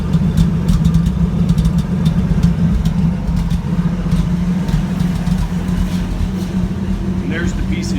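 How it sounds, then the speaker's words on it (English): A 1984 Toyota Land Cruiser FJ60 idles with a loud, rough, rumbling exhaust drone from an exhaust coupled but not yet welded, steady throughout, with a faint voice briefly underneath near the end. "that exhaust you're hearing is just because of I've only got it coupled. It's not welded yet."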